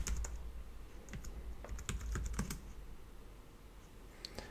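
Keys clatter on a computer keyboard as a password is typed to log into a macOS virtual machine on a 2018 Apple Mac Mini, a quick irregular run of soft close clicks with no talking.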